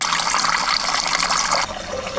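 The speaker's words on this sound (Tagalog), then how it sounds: "maglalagay na tayo ng tubig" Water splashes and gushes steadily into a cooking pot as a base for Filipino sinigang soup, a continuous pouring rush that drops off abruptly near the end, with no talk.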